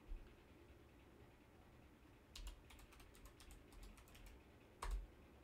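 Keys on a computer keyboard are typed in a quick cluster of soft clicks partway through, with a couple of louder isolated taps after it, in a quiet room with no talking.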